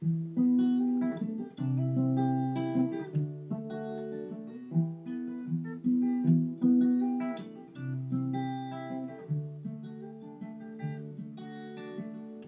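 Solo acoustic guitar plays the short interlude solo of a song, plucked notes and strummed chords at moderate volume, with no voices.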